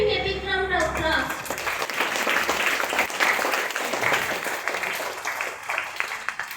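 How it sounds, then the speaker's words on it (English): A school assembly audience of students bursts into applause after a correct quiz answer, a dense wash of clapping that swells and holds steady, with a voice speaking briefly at the start. "Give him a big round of applause."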